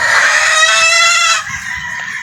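Sweater gamefowl on a game farm crow and cluck loudly at close range, and a long crow carries through most of the stretch before fading into softer background clucks.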